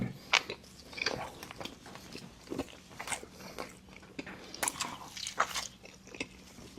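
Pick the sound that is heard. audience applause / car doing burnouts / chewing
chewing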